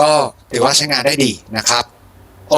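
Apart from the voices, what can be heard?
No everyday noise stands out behind the speech.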